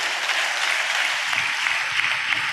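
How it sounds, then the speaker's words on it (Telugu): A church congregation claps together in a dense, continuous burst of applause that stays loud and even from start to finish. "చప్పట్లు కొట్టు స్తోత్రాలు చెప్తా."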